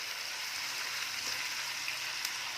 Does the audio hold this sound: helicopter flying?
no